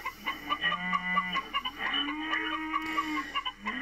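A small HO scale barn sound module plays recorded farm sounds: a run of clucking and rooster-like calls, fairly close and clear over a faint electronic hiss.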